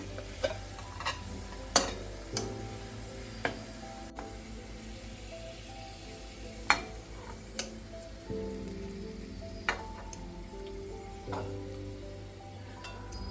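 Sliced onions frying in oil in a karahi to make beresta for a Bengali fish chaap, a steady soft sizzle broken by repeated scraping clinks of a spatula stirring, close and fairly quiet.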